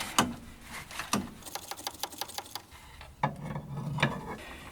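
A socket wrench on a long extension works a bolt on the thermostat of a 1988 Toyota 4x4 van, giving a quick run of close ratcheting clicks between louder knocks and scrapes of metal.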